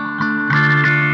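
A sustained electric guitar tone through fuzz and reverb pedals rings out with fuzzy distortion and a reverberant wash, brief and fairly loud.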